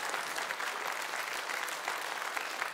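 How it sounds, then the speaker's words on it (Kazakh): Studio audience applauding during a Kazakh televised celebrity duet music show, steady dense clapping filling the room at an even level throughout, with no voices standing out. "Ол шапалақтап қойсаңыздар."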